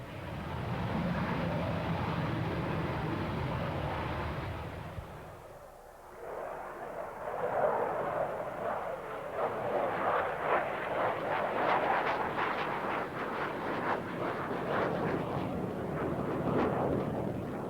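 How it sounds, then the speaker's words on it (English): A MiG E-155 prototype jet, forerunner of the MiG-25, roars in flight on archival film, a loud broad rumbling engine noise that dips briefly before surging back with a harsh crackling texture. "It is the first flight of the E-155, the prototype of what was to become the MiG-25."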